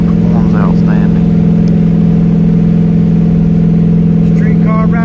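A turbocharged Mustang GT street car with Holley EFI drives along, its engine holding a loud, steady low drone throughout, with brief whistly tones on top.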